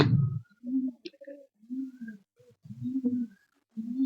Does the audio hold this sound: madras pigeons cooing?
yes